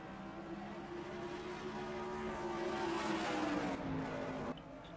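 Simulated stock car engines roar steadily in an online NASCAR-style league race at Food City 500, several cars droning together loud and close with a slight rise in pitch before a sudden drop near the end.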